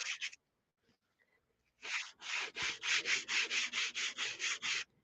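Ink pad in Mossy Meadow color rubbed back and forth across a stamped image on paper: a short scuff, a pause, then about a dozen quick, even rubbing strokes, close and fairly loud.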